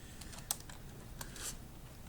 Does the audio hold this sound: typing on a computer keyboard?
yes